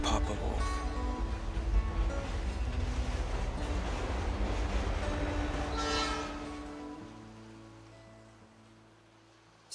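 Train ride in Life is Strange 2: steady loud rumble of rolling wagons with horn-like tonal hoots and wheel squeal, fading quieter over the last few seconds.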